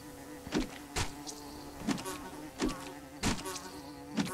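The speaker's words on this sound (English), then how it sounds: "So there's these bees." Bees buzz in the Wigmund video game, with several short, fairly faint buzzing swells repeating about every half second to a second and no speech.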